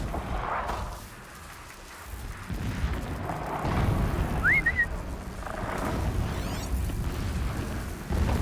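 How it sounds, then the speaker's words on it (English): Distant explosions rumble in the video game Horizon Zero Dawn, deep booming surges rolling through a low, continuous background, with faint whistling tones above. "Explosions in the distance."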